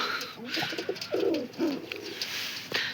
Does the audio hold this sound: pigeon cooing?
yes